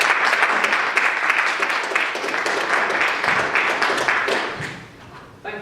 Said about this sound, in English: So, can we have a warm round of applause, please, for Rhys?